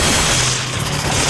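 Gunfire in the video game Resident Evil 5, a dense burst of overlapping shots and booms that sounds loud and continuous for about a second and a half.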